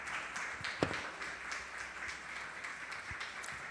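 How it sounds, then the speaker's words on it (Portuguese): A church congregation claps in praise, a soft, steady wash of many hands at a distance with one sharper clap standing out, and no voices over it. "Por favor, erga sus manos y aplauda a Jesús."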